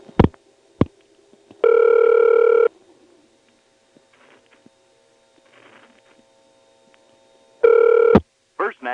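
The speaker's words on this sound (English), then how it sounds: "Here's a call to the time number, which happens to be in 625, the Pentacata" A telephone rings in two long bursts on a coin phone call to the time number in Ramseur, North Carolina, 1977, with quiet line noise and faint clicks between rings.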